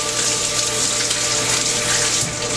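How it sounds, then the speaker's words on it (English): Tap water running steadily over a cucumber being rinsed, a loud continuous close splashing rush with no pauses and no voices. "so I'm rinsing the cucumber"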